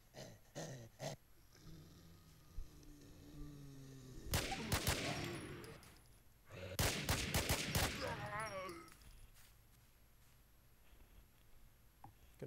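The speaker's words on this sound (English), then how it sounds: "Gonna go ahead and unload the mag out of this MP5 too." MP5 submachine gun fire in the video game The NewZ, heard as several quick bursts of rapid shots with pauses between and lighter clicks and clatter around them.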